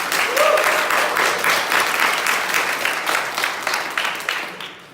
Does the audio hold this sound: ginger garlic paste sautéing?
no